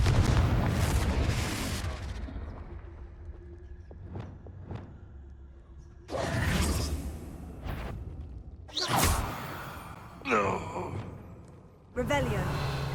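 Confringo fire spells explode in Hogwarts Legacy: several whooshing blasts with sharp broadband bursts arrive in quick succession, spaced a few seconds apart, with a character voice heard between them.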